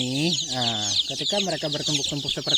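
Close, busy clucking and squawking from free-range village chickens crowded together in rainy season, with a drawn-out call followed by rapid overlapping clucks, alongside a high chirping chorus.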